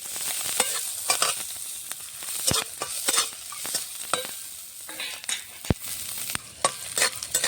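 Chopped green chili and garlic frying in a pan: a continuous crackling sizzle broken by frequent sharp spatula scrapes and taps against the metal, close and fairly loud, with no one talking.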